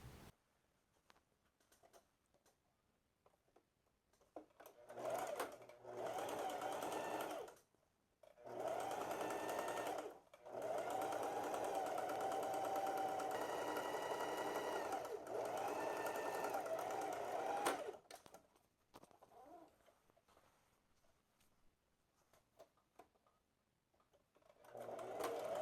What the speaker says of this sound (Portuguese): vamos fazer uma costura bem rente ao acabamento